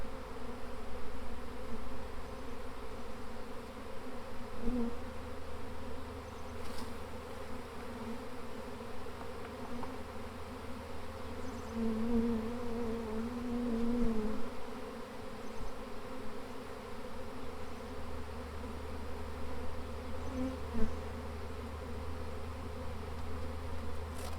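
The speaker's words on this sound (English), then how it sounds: "I'm not as concerned about shaking these bees" A steady drone of many honeybees from a swarm trap buzzing close by, persistent and even, with a few individual bees briefly rising louder as they pass.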